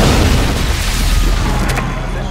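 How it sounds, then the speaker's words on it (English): A movie-trailer explosion rumbles loud and heavy, a sustained deep boom with crackling debris that slowly tails off. "There has been an explosion."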